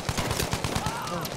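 Rapid gunfire in the shooter game Battlefield V on PS4, a quick string of sharp shots in a steady rhythm, close and fairly loud, followed by a rising tonal effect.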